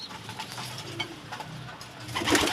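A white Clizar pigeon on sale at a bird market in Mahalla coos softly and steadily amid a murmuring crowd, with a brighter burst near the end.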